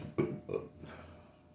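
Two or three abrupt, throaty hiccups, close and moderately loud, each a short voiced jolt, fading to quiet.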